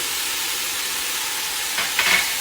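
Crushed garlic hits hot oil in a pan and sizzles, a steady broadband hiss under a faint background, with a brief burst of louder crackling near the end as it is stirred.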